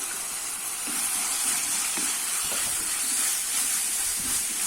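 Tomatoes sizzle in a pan with ground rasam spice powder while garlic rasam is being cooked. Steady frying hiss and sputter, close and continuous, with occasional soft stirring clicks.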